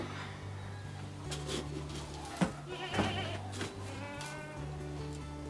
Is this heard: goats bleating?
yes